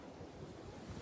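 Sea waves at Dwarka splash up against the shore, heard as a steady rushing wash of surf with wind noise across the microphone, with no talking.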